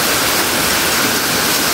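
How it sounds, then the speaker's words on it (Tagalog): Water pours loudly inside a cave of an underground river during rain, a dense, steady rushing roar with no breaks and no voices. "Ang daming mga nagbabagsakang mga tubig sa loob din pala dahil umuulan."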